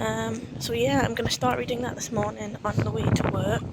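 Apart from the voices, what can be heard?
wind blowing into microphone outdoors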